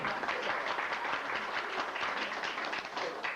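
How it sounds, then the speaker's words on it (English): An audience at a 1999 tri-state class reunion gives a round of applause, dense continuous clapping at steady volume throughout with no talk over it. "Give her another round of applause."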